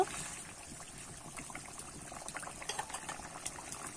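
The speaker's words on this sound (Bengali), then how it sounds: "দেখো ঝোলটা কিন্তু খুব ভালো করে ফুটে গেছে" A thin fish curry broth (macher jhol) with drumsticks bubbles at a rolling boil in a pot, a close continuous burble of popping bubbles with no talk.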